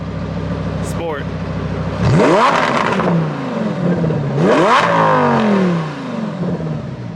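A V10 car engine revs hard twice through its exhaust, each blip a loud rising roar that falls away into crackle, heard close up after a short idle.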